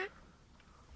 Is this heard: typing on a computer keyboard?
no